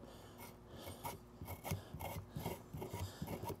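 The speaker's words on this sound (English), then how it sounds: "we'll take the scales off. Just use the back of the knife for that." Back of a knife rasping scales off a pompano, a run of short rough scrapes repeating in a steady rhythm at close range, with no voices.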